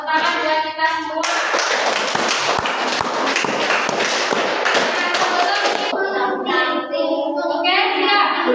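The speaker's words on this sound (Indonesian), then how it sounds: "Tepuk tangan buat kita semua." Dense group applause from a room of teachers in a school supervision session, loud and sustained for several seconds with sharp overlapping hand claps, bracketed by voices talking at the start and end.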